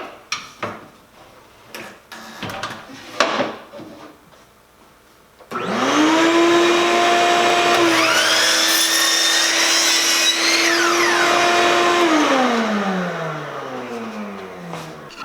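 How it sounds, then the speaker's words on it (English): A miter saw cuts a 45-degree angle in wood: a few sharp knocks and clicks lead into a loud whining motor spin-up, a steady cutting roar lasting several seconds, then the blade winds down with a falling whine. "I'm gonna take this over to my miter saw."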